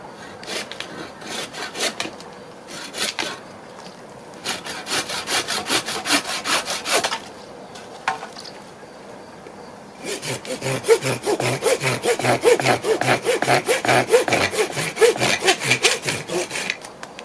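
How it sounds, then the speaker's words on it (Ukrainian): A Dnipro-M hand saw cuts through a tree branch outdoors in steady back-and-forth strokes, first in short bursts, then a long loud run of rapid rasping strokes, with no speech. "Хоч я вже два роки неї пиляю і зуби трішки підтуплені, але все-таки вона пиляє м'якше"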